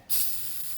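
A steady spray of aerosol brake cleaner hisses out in one continuous burst, loud and close, starting abruptly and holding without pause, during a front brake pad replacement on a Mercedes W463 G-Wagon.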